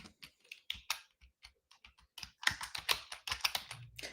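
Someone types a chat message on a computer keyboard, a quiet, close run of irregular key clicks that speeds into denser bursts toward the end, with no voices.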